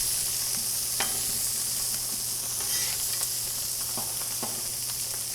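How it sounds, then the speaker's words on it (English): Garlic is stirred into vegetables frying on a Blackstone griddle, giving a steady close sizzle with occasional spatula scrapes and taps and no talking. "Onto my veggies, I'm going to add a few spoonfuls of garlic. Let's get that incorporated a bit."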